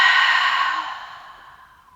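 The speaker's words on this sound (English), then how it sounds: "Open up the mouth." A single long exhale through an open mouth during a yoga breathing exercise, a close breathy sigh that starts strong and fades gradually over about two seconds.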